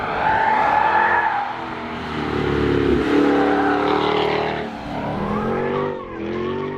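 A Jaguar F-Type P450 R-Dynamic is thrown hard into corners on a racetrack, its engine revving loudly up and down while the tyres squeal and skid, close and continuous with no talking.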